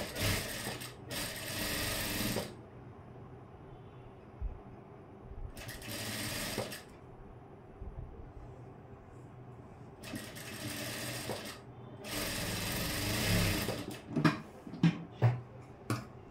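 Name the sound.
sewing machine stitching a blouse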